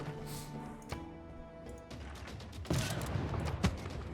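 A bombard firing on a city in Civilization 6: a game soundtrack hums along until a heavy siege cannon blast cracks out and gives way to crashing impacts and rumbling destruction sounds.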